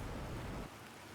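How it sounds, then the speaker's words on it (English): Rain pours steadily with a low rumble of thunder in The Planet Crafter video game, loud and continuous before the thunder fades partway through, leaving a thinner hiss of rainfall. "Wait, shit, it's raining."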